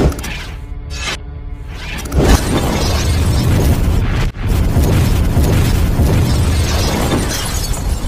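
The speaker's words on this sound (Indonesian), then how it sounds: "Ternyata Coblek mengeluarkan sesuatu yang dapat menghancurkan rumah John" A house blown apart in the John Wick action film: a loud, sustained explosive roar with crumbling debris that runs for several seconds after a brief quieter opening, dropping for an instant midway before continuing.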